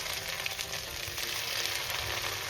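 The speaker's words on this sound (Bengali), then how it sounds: "এবার আমি দিয়ে দিচ্ছি থেতো করে রাখা আদা" Crushed ginger hits a pan of arhar dal cooked with vegetables, setting off a steady, close, dense sizzle of frying that holds evenly throughout with no voices.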